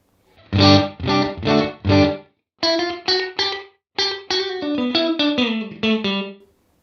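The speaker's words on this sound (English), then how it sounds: "You can hear slight room reverb" Electric guitar through a UAFX Enigmatic 82 Special Overdrive pedal plays choppy chords and then single notes, with a slight roomy reverb tail after each phrase.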